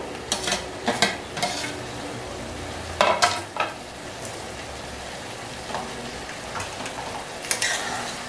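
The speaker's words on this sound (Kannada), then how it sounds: "ಹಸಿಮೆಣಸಿನಕಾಯಿ ಅಂಡ್ ಶುಂಠಿ ಅಂಡ್ ಬೆಳ್ಳುಳ್ಳಿನ ಫ್ರೈ ಮಾಡ್ಕೋಬೇಕು." Green chilli, ginger and garlic frying in a pan, a steady soft sizzle up close with repeated scraping stirs of a spoon against the pan.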